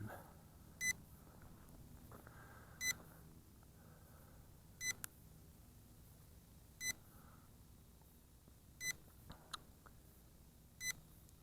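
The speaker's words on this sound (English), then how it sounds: "it beeps when it does a return to home" Eachine E511S folding GPS camera drone beeping during return to home: short, sharp high beeps repeat roughly every two seconds over faint steady background hiss.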